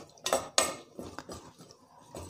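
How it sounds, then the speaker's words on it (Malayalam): A spoon stirs vegetables in a metal cooking pot for kurukku kaalan, giving two loud clanks against the pot followed by softer scraping and clinking strokes, close and without talk. "ഇനി എല്ലാം ഒന്ന് ഇളക്കി മിക്സ് ആക്കുക"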